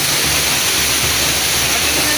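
Dense, loud, constant rushing roar of a waterfall, steady broadband water noise filling the whole span without pauses or voices.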